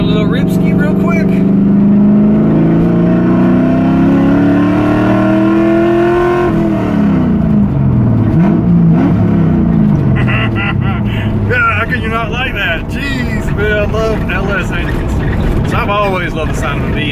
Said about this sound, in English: Love the sound of a V8.